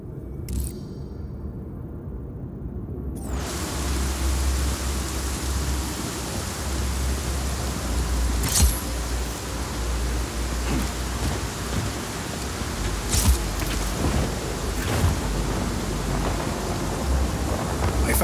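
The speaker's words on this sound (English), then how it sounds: "Storm's rolling in." Thunderstorm in the video game Just Cause 4: heavy rain pours down in a dense, steady roar, broken by several sharp, loud thunder cracks and rumbles, with no voices heard.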